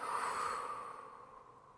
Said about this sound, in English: Send some big, full, nourishing breaths through your body.